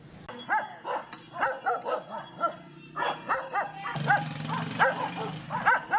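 Stray dogs bark and yip repeatedly on the streets of Taiz, a city in Yemen, in a busy outdoor scene. The barks come in quick bursts, moderately close, over a steady hum of street noise that grows louder toward the end.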